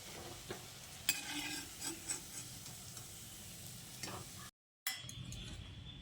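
Egg and potato fritters fry in hot oil while being turned and lifted out, giving a steady close sizzle broken by a few sharp utensil clinks against the pan and a brief dropout near the end.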